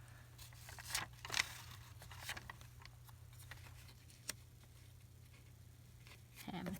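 Paper ticket being cut with scissors for a junk journal, a few quiet snips and rustles spread over a low steady hum, with a soft tap near the end.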